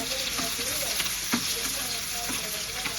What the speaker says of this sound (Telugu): చూడండి ఎంత మంచిగా వేగుతుందో, ఇట్లా వేయించుకోవాలా.